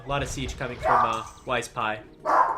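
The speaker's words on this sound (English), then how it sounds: "That's my dog." A pet dog barks and yips in bursts in the background while someone talks over it.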